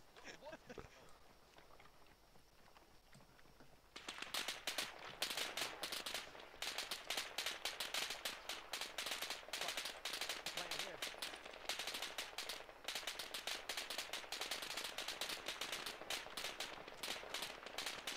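Sustained gunfire in the military shooter ArmA 3: after a few quieter seconds, dense bursts of rifle and machine-gun fire crackle almost without a break, many sharp reports at varying distances, with talk under the shooting.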